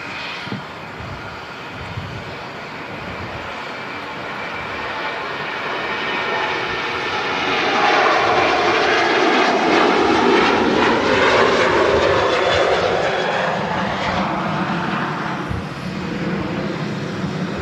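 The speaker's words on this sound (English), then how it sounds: "this to land is a 737 MAX 8 from Palma de Mallorca" A Boeing 737 MAX 8 jet airliner comes in to land at a windy Manchester Airport, its engine roar swelling steadily to a loud, broad peak and then holding as it passes close by.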